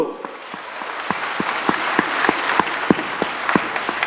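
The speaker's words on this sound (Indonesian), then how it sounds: "Tepuk tangan untuk Surabaya Bapak Ibu." A crowd claps steadily and warmly for several seconds, a dense wash of hand claps with a few louder individual claps standing out.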